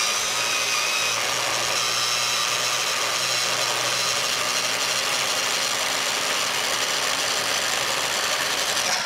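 A food processor running at speed as it blends Thai green curry paste, a steady, continuous whirring motor drone that holds evenly and fairly loud throughout with no talking.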